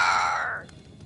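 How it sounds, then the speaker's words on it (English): A single loud, harsh crow caw in the game Banishers: Ghost of New Eden, close and alone, trailing off quickly into quiet. "It's Ceridian, by way of the invisible, speaking through the crow"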